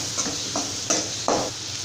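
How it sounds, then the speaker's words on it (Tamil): Tomato, onion, fennel and turmeric sauté in a pan with a steady, close sizzle, broken by a few scraping stirs of a spoon. "இப்போ இதை நல்லா இந்த மாதிரி வதக்கிக்கலாம்."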